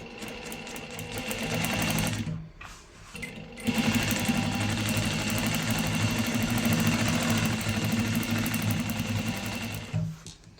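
A sewing machine stitching together fabric scraps from a tailoring shop, running loud and steady with a rapid mechanical whir, pausing briefly near the start and stopping again near the end, with no voices.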